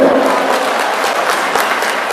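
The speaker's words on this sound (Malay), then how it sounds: "Tepuk tangan buat Dr. Arija." A crowd at an evening thanksgiving celebration for Indonesia's National Health Day applauds a doctor, with dense, steady, loud clapping throughout.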